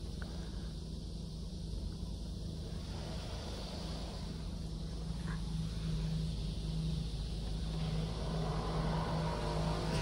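A PDQ Laserwash car wash motor drones continuously from inside a car, a steady low hum with a rough tonal buzz under a broad rushing wash of spray and air.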